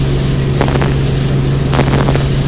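A helicopter flying over Key West, its loud, steady rotor and engine drone holding close and constant throughout with a strong low hum.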